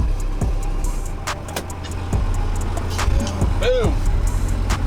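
A fuel truck at a jump-plane airfield idles and drives with a steady low engine rumble, and brief clicks and an air-brake hiss come near the end, all under continuous nearby talk.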